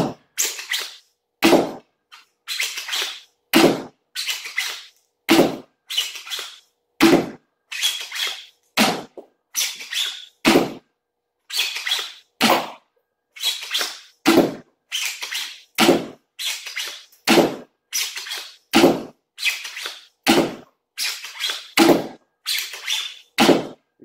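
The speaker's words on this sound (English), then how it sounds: "For now, I'm gonna shoot the Kleenex box." Sten-style foam dart blaster repeatedly primed and fired at a Kleenex box, a steady run of about thirty sharp, close pops each paired with a quick mechanical slide, spaced under a second apart with no talking.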